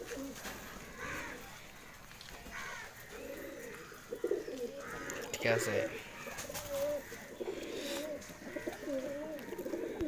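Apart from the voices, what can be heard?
pigeons cooing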